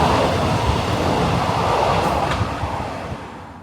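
A train runs along the Aberdeen to Inverness line, a steady broadband rolling rumble with faint rail clatter, heard close from on board and easing slightly toward the end.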